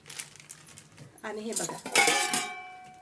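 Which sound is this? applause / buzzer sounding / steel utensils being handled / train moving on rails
steel utensils being handled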